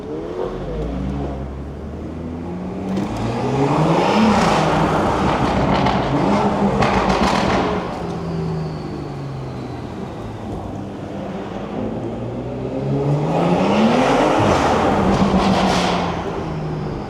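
A BMW with a stage 2 tuned B58 engine revs its exhaust inside a tunnel. The loud, close engine surges twice through rising and falling revs, echoing, with no talking.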